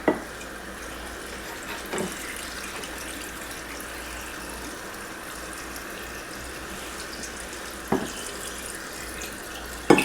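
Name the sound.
water running from a tap while filling a container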